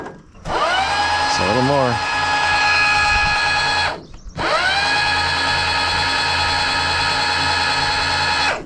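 A power drill backs screws out of a campsite fixture in two long, loud whirring runs with a short pause between them. A voice speaks briefly over the first run.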